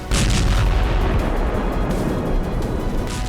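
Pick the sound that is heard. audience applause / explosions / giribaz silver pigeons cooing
explosions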